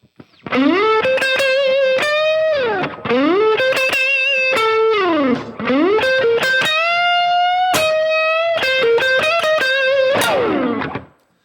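Distorted electric guitar playing a sustained blues lick in C, with bending notes and vibrato, loud and alone.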